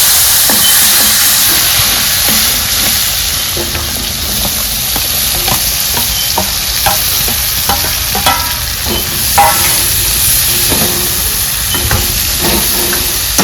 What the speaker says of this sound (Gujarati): હાલો હવે શાક બનાવવાનું છે અને બનાવે છે આપણા માછલી શાક.